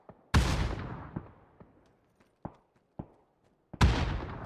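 Grenade blasts in PUBG: a sharp, loud explosion with a long decaying tail, several smaller distant thuds, then another heavy detonation near the end.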